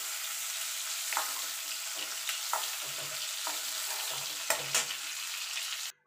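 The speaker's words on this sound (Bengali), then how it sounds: "দেখুন বন্ধুরা চিংড়ি মাছটা ভাজা হয়ে গেছে," Prawns fry in hot oil in a pan with a steady, close sizzle throughout, broken by a few stirring scrapes, before the sound cuts off abruptly at the end.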